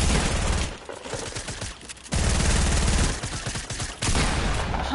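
Rapid bursts of automatic gunfire in a shooter video game, loud and sustained with brief gaps between volleys, heavy and close throughout.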